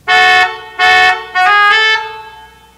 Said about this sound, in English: So we got a three-note car horn